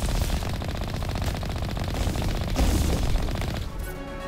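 Rapid automatic gunfire in the video game Mass Effect, a dense continuous rattle of shots and booms, loud and unbroken, easing off near the end.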